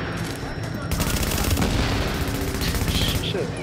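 Dense automatic gunfire in the video game Tom Clancy's The Division rattles almost continuously throughout, with bursts layered over a busy game soundscape.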